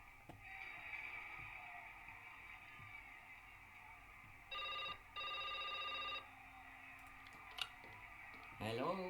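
In the Broken Sword 5 video game, a phone rings as two short, even electronic bursts, separated by a brief gap, sounding over a soft ambient hum with a few scattered clicks.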